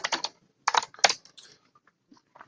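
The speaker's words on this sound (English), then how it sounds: "we can just turn down that keyboard a little bit" Close, crisp computer keyboard typing comes in quick clusters of clacking keystrokes separated by brief pauses, with a few lighter isolated taps trailing off at the end.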